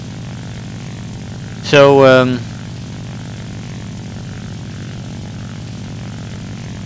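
An SB2C-1C Helldiver dive bomber's propeller engine in the War Thunder combat game drones loudly and steadily throughout, with someone briefly speaking over it.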